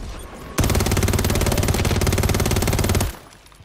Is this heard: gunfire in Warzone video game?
yes